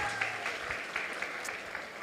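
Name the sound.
audience applause for the feast cooks and bakers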